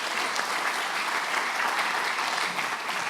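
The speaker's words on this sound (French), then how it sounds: "On peut l'applaudir aussi d'être parmi nous ce soir." An audience at a COP21 energy conference round table applauds, a dense, steady burst of clapping throughout with no talk over it.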